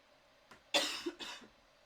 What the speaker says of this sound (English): Confirmation cough.